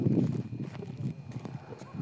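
A stallion shifting and stepping outdoors, its hooves clip-clopping in a few irregular, fairly close thuds over a low rumble of background noise.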